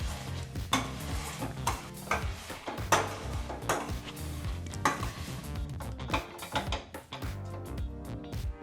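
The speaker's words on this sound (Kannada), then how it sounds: "ಚೆನ್ನಾಗಿ ಮ್ಯಾಶ್ ಮಾಡ್ಕೊಂಡಿದ್ದೀವಿ" A masher works cooked capsicum and mixed vegetables for pav bhaji in a hot pan, giving repeated squelching thuds and scraping knocks against the metal over soft sizzling, uneven and close, with no voices.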